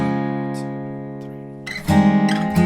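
Acoustic guitar plays the main riff of a song: a sustained chord fading out, then two crisp strums near the end, close and clear with no voices.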